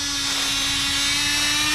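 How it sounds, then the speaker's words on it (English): A power drill bores holes into a log being inoculated with mushroom spores, producing a loud, steady, close-up whine that holds without a break for under two seconds. "Now Joey is drilling holes."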